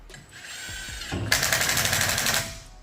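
An impact or power tool runs a bolt back in during wheel bearing work on a 2017 Ford Explorer, a close, loud rapid rattling burst of about a second and a half after a brief lighter whir.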